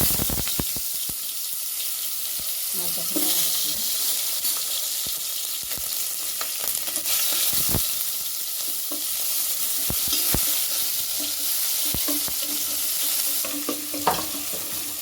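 Whole spices, cinnamon, cardamom and a root, sizzle steadily in hot oil in a pan for an egg and mushroom gravy, with a ladle scraping and stirring through them and occasional clicks of the utensil against the pan.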